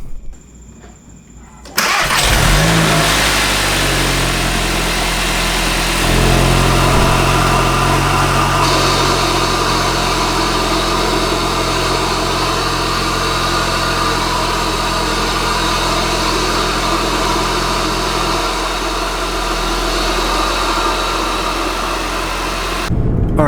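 Volkswagen Mk8 GTI fitted with an iE intake, the engine starting with a sudden roar and then holding a loud, steady drone with airy intake rush for about twenty seconds, close by and with no talking.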